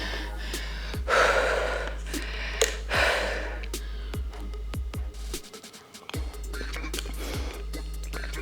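Heavy breathing during a full-body functional workout, with several loud gasping inhales and sighing exhales at uneven intervals over a steady low hum, close to the microphone.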